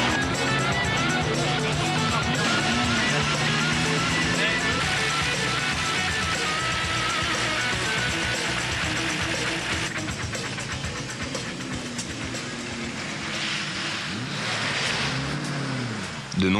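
A ProTruck race truck roars at full throttle during an off-road endurance race, a loud sustained engine drone with shifting revs and passing vehicles, with a commentator's voice running over it.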